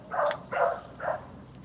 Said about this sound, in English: Some puppies over there.